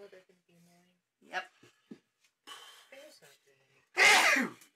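A single sharp sneeze bursts out near the end during a Gloomhaven board game session, loud and close, following scattered conversation among the players.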